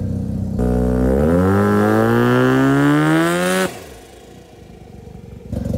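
A Suzuki Mighty Boy weighing 600 kg, fitted with a Series 4 13B turbo rotary engine and a Commodore diff, drives off. Its engine revs climb loudly and close for about three seconds, then drop back to a lower, rougher idle-like drone.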